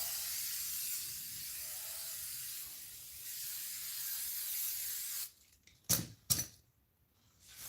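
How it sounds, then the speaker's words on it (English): Spray adhesive hisses from an aerosol can in a steady, fairly loud stream for about five seconds, then two short sharp bursts follow after a pause. "Just cover everything in spray adhesive."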